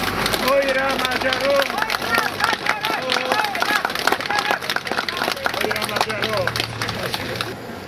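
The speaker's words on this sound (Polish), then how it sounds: "Brawa dla Węgrów!" Crowd gathered outdoors at the Katyń Cross below Wawel in Kraków on a November evening claps for Hungarian guests, a dense, continuous patter mixed with loud talk over it throughout.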